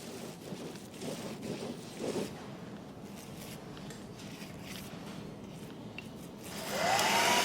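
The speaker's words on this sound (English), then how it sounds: "Emma, think about the hairdryer." A hairdryer blows a steady, soft whoosh over chalk-painted wooden furniture, its airflow fairly faint and continuous, swelling louder near the end.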